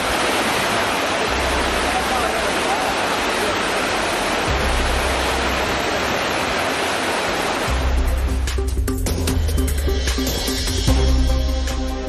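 Courtallam main waterfall in flood, a dense, continuous roar of heavy falling water that changes in texture partway through, with no voices.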